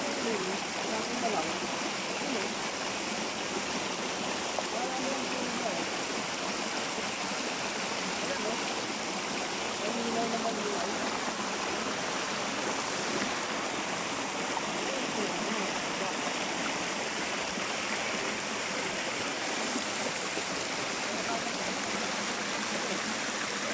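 The Al Hada waterfall stream flows steadily with a broad, even rush of water, constant and fairly faint, with people talking quietly at times.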